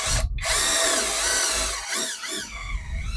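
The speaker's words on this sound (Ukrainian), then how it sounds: "свердлом отвір спокійно і собі заганяєш" A power drill whirs loudly as it bores a pilot hole for a screw, pitch shifting as the bit bites and briefly cuts out.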